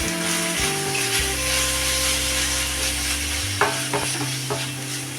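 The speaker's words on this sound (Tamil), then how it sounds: "இது எல்லாத்தையும் நல்லா வதக்கிக்கலாம்" Steady sizzling of food frying in a pan, with continuous stirring and scraping close up and a few sharper clinks near the end; no talking.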